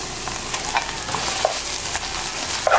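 Ground meat sizzles and fries in a pan for a pastelón de plátano maduro, a steady hiss broken by small pops and a few scraping stirs, close and fairly loud with no talk.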